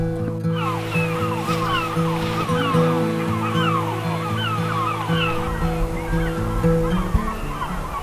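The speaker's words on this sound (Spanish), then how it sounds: "Las olas del mar y las gaviotas eran los únicos sonidos que rompían el silencio absoluto" Sea waves wash steadily in the background while gulls call and cry repeatedly across the scene in the Lofoten Islands, Arctic Norway, with a low droning hum underneath throughout.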